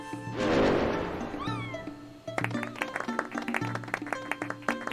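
A cat meows in the Chrono Cross video game, a drawn-out cry heard alone, then a bright rising game chime and a plucky, rhythmic music loop that carries on beneath.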